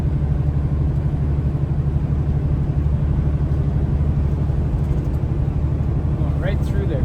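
A semi truck labours slowly up an incline on Interstate 70 in Utah, its engine a steady, heavy low rumble that drones on unbroken at close range.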